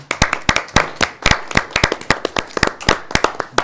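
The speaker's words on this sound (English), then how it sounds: "So I think we owe Ann a little round of applause there." A small group claps in a brief round of applause, the claps sharp and close, in an uneven patter.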